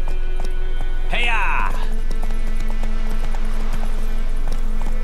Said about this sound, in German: Wenn die Ausdauer des Pferdes erschöpft ist, kannst du nicht mehr galoppieren.